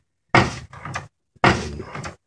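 A plywood paddle driven by an old treadmill motor and spindle knocks a dresser drawer in a haunted-house prop, giving two loud thumping bursts about a second apart, each with a rattling wooden tail.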